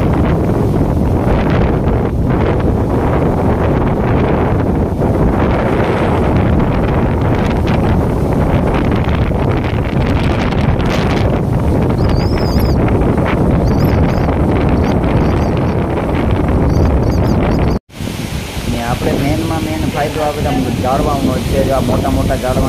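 Strong cyclone wind roars through village trees such as coconut palms, jamun and neem, a loud continuous buffeting gust hitting the microphone for most of the clip before cutting out abruptly near the end.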